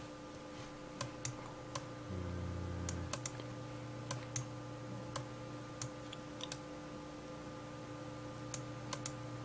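Computer keyboard keys pressed in a quiet room during compositing software work, giving scattered, irregular clicks at close range over a faint steady electronic hum, with no talk.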